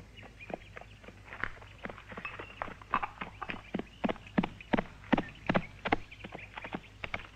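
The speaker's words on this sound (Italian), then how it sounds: "La ragazza Marianne sta arrivando a cavallo." A horse arrives with a rider, hooves clip-clopping in a quickening uneven rhythm that grows louder as it approaches, over a low background hum.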